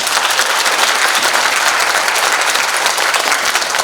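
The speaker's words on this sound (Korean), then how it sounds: "박수 한번 보내드립니다" Loud, dense applause from a large audience at a Korean book launch celebration, steady and continuous throughout with no one speaking.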